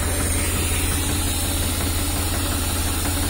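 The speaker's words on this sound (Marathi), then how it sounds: "700 ते 800 आरपीएमला ट्रॅक्टर एकदम व्यवस्थित चालतो" A New Holland Heritage Edition tractor idles at about 700 to 800 rpm while driving a milking machine, giving a steady close low throb with a continuous mechanical hum and no talk.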